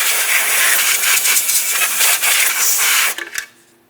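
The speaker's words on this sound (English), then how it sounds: "We'll just use a little bit of compressed air to make sure there is no debris." Compressed air hissing steadily around the AC compressor of a 2006-2011 Honda Civic, a loud continuous broadband blast lasting about three seconds before cutting off in a few short sputters.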